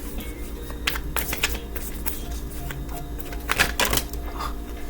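Tarot cards being shuffled by hand in a few quick riffling bursts, close and crisp against a quiet room with a low hum, with no talking.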